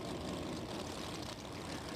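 Big 600 cubic inch high-compression drag racing engines with large camshafts idle at a street drag event, a loud, dense low rumble that holds steady for a couple of seconds.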